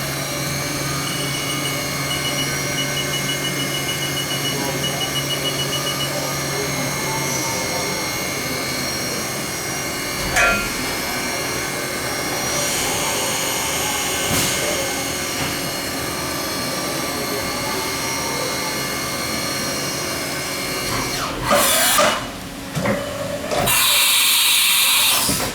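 The spindle of a 2006 Haas VF-3 CNC vertical machining center spins at 8,400 RPM, a steady high whine with sustained tonal lines, punctuated by a few brief clunks and a burst of louder mechanical noise near the end.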